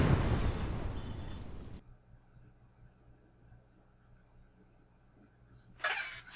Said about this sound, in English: as you can see, they just spontaneously explode again